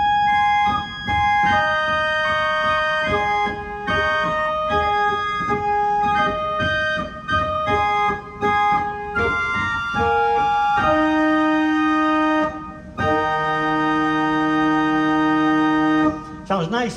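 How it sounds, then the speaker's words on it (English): Pipe organ in a small Methodist church sounding its 4-foot principal stop, a clear, bright sustained tone moving through a sequence of held notes and chords, each note ringing steadily with brief gaps between phrases. "Next we move to a 4-foot, which is a principal."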